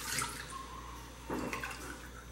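Milk pours into a measuring glass in a kitchen while chicken esfirra dough is being made, a soft close liquid stream with a brief splashing surge partway through.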